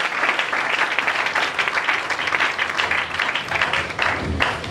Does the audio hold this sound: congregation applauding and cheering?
yes